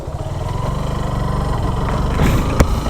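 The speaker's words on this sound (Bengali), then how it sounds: "বাইক চালানোর সময় ক্যামেরায় কেমন কি সাউন্ড ধরতেছে সেটা জানি না, বাট প্রচুর একটা সাউন্ড করে" A Suzuki Gixxer SF FI ABS motorcycle with a faulty chain and sprocket, ridden with a steady, loud, close engine drone that builds slightly before a sharp knock near the end.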